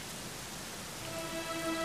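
Steady rain falls in a Dragon Quest XI game scene, a soft, even hiss of drops that stays fairly quiet for under two seconds, with a faint tonal hum coming in near the end.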